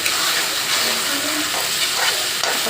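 Onion, ginger and garlic spice paste frying in a pan for chicken curry, a loud, even sizzle close by with faint stirring scrapes and no talking.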